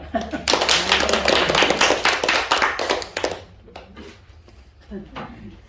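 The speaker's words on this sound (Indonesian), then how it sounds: "Ayo tepuk tangan saudara ya." Audience applause rings out at a church gathering, a dense burst of clapping for about three seconds that thins into scattered claps while people talk.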